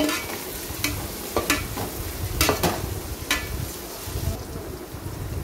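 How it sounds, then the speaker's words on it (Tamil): Onions fry golden in hot oil in a pot for one-pot chicken biryani, with a steady sizzle and repeated scraping stirs of a spoon against the pan. "நல்லா பொன்னிறமாக வதங்கிட்டோம் அந்த வெங்காயம்."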